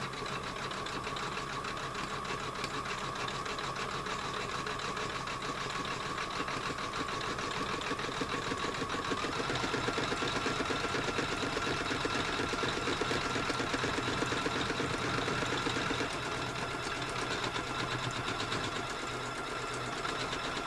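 A machine embroidery stitching a stained glass table runner design at a slowed speed, a steady continuous rhythmic whirring and tapping that holds level throughout.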